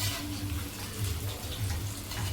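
Bati dough balls shallow-frying in a little oil over a low gas flame for a crisp crust, giving a steady, fairly loud sizzling hiss that runs unbroken with no voices.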